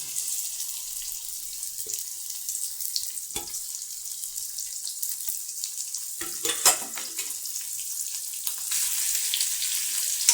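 Boiled potato pieces are tipped into a hot pan and stirred, making a steady hissing sizzle with a few scraping and clattering knocks, close and moderately loud.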